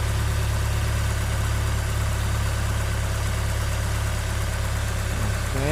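A Honda S2000 AP1 engine idles steadily and loudly during an oil pressure test, with a constant low hum and an even mechanical drone and no changes in speed.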